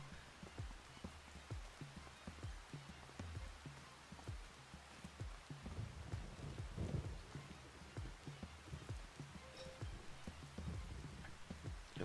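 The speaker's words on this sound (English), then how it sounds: "It's raining." Rain in the farming video game Farming Simulator 25 patters steadily on surfaces with dense drops and a low rumbling undertone, continuous and moderately loud, with no voices.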